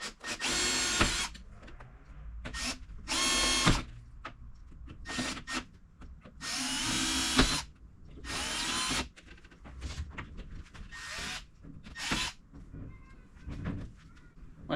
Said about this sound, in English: Then you just go around and continue drilling the rest of your holes.